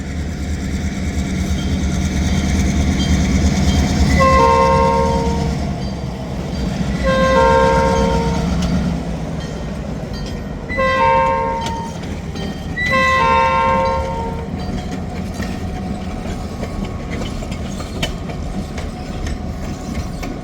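Long, heavy freight train with multiple locomotives rumbling past a road crossing, with a deep continuous roll of wagons and several loud repeated horn blasts over the top.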